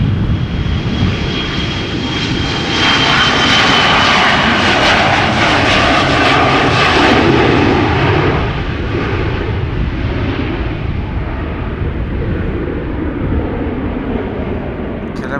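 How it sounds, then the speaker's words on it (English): An Embraer 175 airliner taking off from Schiphol Airport bound for Humberside, its jet engines roaring loud and close with a sustained rumbling thrust and a whining tone, slowly fading as it climbs away. "Another Embraer 175 already going out to Humberside."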